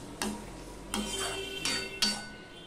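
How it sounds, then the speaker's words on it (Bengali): A spoon taps and scrapes against a pan four times, spaced about a second apart, while spice paste is stir-fried for a small-fish curry, quiet and close. "এবার মশলাটা আমি কষিয়ে নেব।"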